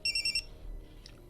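A cellphone rings for an incoming call: a short burst of rapid bright electronic beeps, close and clear, then a quiet room.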